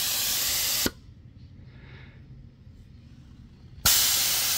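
Air hisses loudly out through an automatic tire deflation valve on a MORRFlate vehicle air hub, cuts off abruptly for about three seconds, then bursts back on just as strongly.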